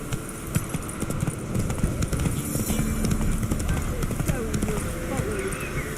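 Rapid, rhythmic clip-clop of the horse Roach galloping in The Witcher 3, hoofbeats drumming steadily close up beneath a speaking voice.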